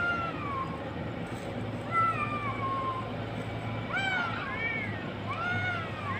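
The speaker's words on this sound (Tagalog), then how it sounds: "yung pusa na yan na malaki, medyo maano na yan, may edad na yan, matanda na yan." An old, large cat meows several times, drawn-out rising and falling calls spaced a second or two apart, fairly close over a steady low background hum with no talking.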